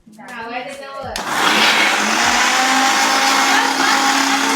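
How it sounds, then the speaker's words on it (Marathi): A kitchen mixer grinder, received as a wedding gift, whirs loudly and steadily at close range for most of the clip, its high motor roar starting abruptly after a brief moment of talk. "हे मिक्सर लग्नात आला होता, नवीन मिक्सर घ्यायला लागते आम्हाला"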